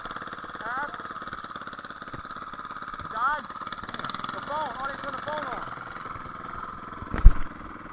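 A Predator 212 small engine runs steadily on PB Blaster as fuel, its mid-pitched drone constant and close throughout, with people talking over it and a sharp knock near the end.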